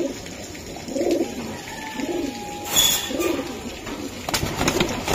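Pigeons coo nearby in a slow repeating rhythm of soft rounded calls, about four phrases, with light background noise and a brief rustle midway.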